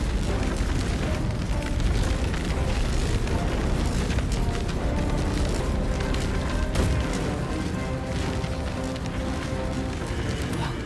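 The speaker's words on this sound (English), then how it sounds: "So this Nova will just about to explode." A Nova explodes in Baldur's Gate 3, giving a continuous loud barrage of deep booms and bursts layered over a dense rumbling game soundscape, with no talking.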